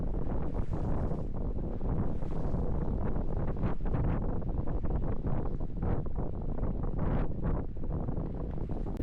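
Strong wind buffeting across a lake during bass fishing, a constant loud roaring gusty rush with heavy microphone wind noise and no talk.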